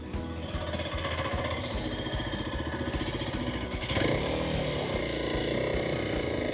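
A dual sport motorcycle engine idles and putters at low speed through a slow, clumsy U-turn, its steady chugging beat continuous and close, rising slightly in loudness partway through as the throttle opens.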